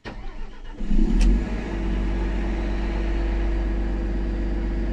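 A Liebherr PR756 dozer engine, fitted with an AdBlue emulator, catches and settles into a loud, steady low-pitched running drone after a brief burst at startup, heard close with no talk.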